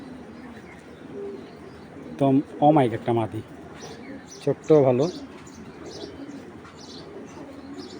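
Domestic pigeons, a collection of hens, give a few soft coos and brief chirps under a man's close speech, with quiet background between his phrases.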